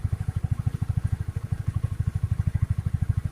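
A Honda CB150R motorcycle engine runs just after starting, a loud, close, rapid steady thumping pulse at idle with no talk over it.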